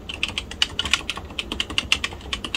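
Keys clatter on the keyboard of a Compaq SLT 286 laptop on a desk, a quick irregular run of close, crisp clicks with no voices.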